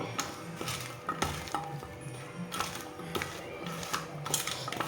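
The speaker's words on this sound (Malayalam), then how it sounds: "ആ ഉപ്പും മുളക് പൊടിയും മഞ്ഞൾപ്പൊടിയും കൂടി നന്നായിട്ട് നമുക്ക് മിക്സ് ചെയ്ത് വയ്ക്കും" Salt, chili powder and turmeric being stirred together for a homemade champaka pickle, a steady close scraping and rustling with repeated spoon knocks against the bowl, no voices.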